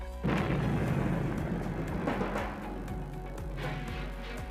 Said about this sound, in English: When fired, the gun slides back on the track from 10 to 15 feet.